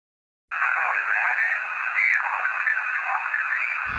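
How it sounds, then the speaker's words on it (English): A ghost hunting device gives out steady, fairly loud radio static. The hiss starts abruptly after a brief silence and keeps going for several seconds. "it just kind of sounds like static"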